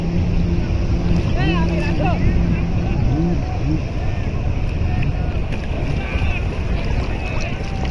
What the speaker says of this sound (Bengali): প্রবল ঢেউ এগিয়ে আসছে ক্ষিপ্র গতিতে।